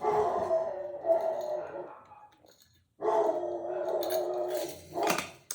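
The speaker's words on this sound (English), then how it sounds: "There's a car parked in front of my house. That's why the dogs are barking." Dogs barking and howling at a car parked outside a house, loud drawn-out howls near the microphone, breaking off briefly before resuming with sharper barks near the end.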